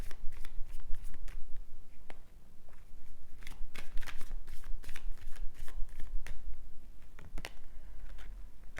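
Tarot cards riffled and shuffled by hand, a rapid series of crisp flicks and slaps with brief pauses, close and steady, with no one speaking.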